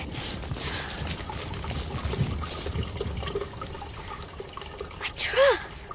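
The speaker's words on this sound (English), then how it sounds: "Colin, did you hear something? Water!" Water trickling into a trough, a soft continuous running splash heard faintly under a wash of background ambience, with a brief voice-like sweep near the end.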